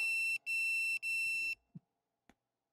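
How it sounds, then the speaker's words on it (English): A phone blares an emergency alert tone warning to take shelter: three loud, harsh electronic beeping bursts with short gaps, then it cuts off, leaving a couple of faint clicks. "my phone's telling me to take shelter right now"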